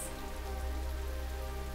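Rain in the video game Dress To Express, a steady dense patter of drops falling continuously at an even level.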